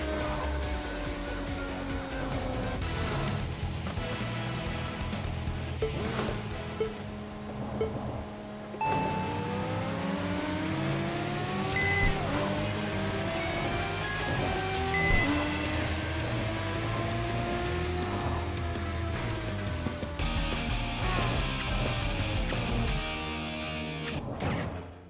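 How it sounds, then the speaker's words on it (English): Whining V10 engine of an Integra in the video game Tokyo Xtreme Racer, pitch climbing and dropping through repeated shifts and revs, with a brief break near the middle and a clunk near the end, loud, continuous and without speech. "Yes, it's definitely the V10 in this Integra."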